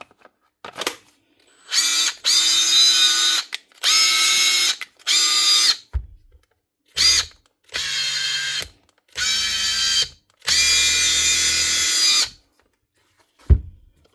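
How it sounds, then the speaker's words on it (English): A Makita cordless impact wrench whirs in repeated short bursts of about a second or two each, separated by silences, with a high whining buzz, close and moderately loud. "It's making a bit of a whining sound."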